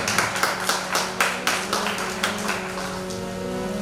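An audience at a Shrimad Bhagavat Saptah religious gathering in Keshod claps in a quick, rhythmic patter that starts strong and gradually thins and fades, heard without speech.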